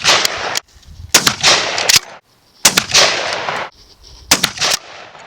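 A 12 gauge shotgun firing Remington Hypersonic Steel BB shells outdoors: four very loud, close blasts in a steady sequence, each with a brief echoing tail, the later shots coming as doubled cracks.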